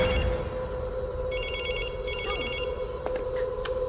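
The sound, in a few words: telephone ringing, unanswered call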